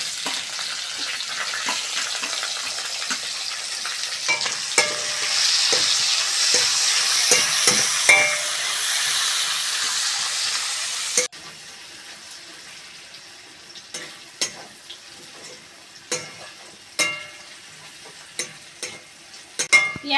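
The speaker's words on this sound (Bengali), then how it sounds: "মাছ ভাজার তেলে কুচনো পেঁয়াজ দিয়ে দেবো।" Chopped onions hiss and sizzle in hot oil left over from frying fish, a steady loud frying noise at first, then quieter sizzling broken by sharp scrapes and clacks of stirring.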